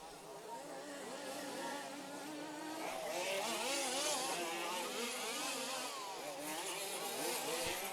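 RC racing cars scream around an outdoor race track in a 2WD main final, their high, wavering motor whine rising and falling as they pass, with commentary over the top.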